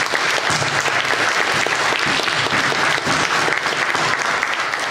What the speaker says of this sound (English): I'd like a round of applause just to see